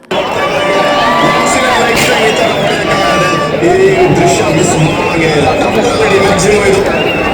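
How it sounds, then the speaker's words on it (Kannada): Cricket fans celebrating a win in Chikkamagaluru, a loud, continuous roar of crowd cheering and shouting with high whistles, close and dense throughout. "ಚಿಕ್ಕಮಗಳೂರಿನಲ್ಲಿ ಅಭಿಮಾನಿಗಳು ಶಿಳ್ಳೆ ಕೆಕೆ ಚಪ್ಪಾಳೆ ಪಟಾಕಿ ಸಿಡಿಸಿ ಸಂಭ್ರಮಿಸಿದ್ದಾರೆ"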